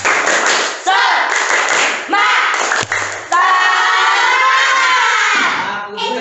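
The back group of a school class performs a rhythmic spirit clap: loud, close bursts of children shouting and chanting with some clapping and thumps, ending in a sustained group cheer.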